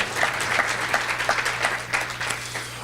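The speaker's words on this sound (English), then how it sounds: "Let's give them a round of applause." Audience at a Pasco Chamber of Commerce meeting claps for honorees, a moderate spread of hand claps with a few sharper individual claps standing out over a steady low hum.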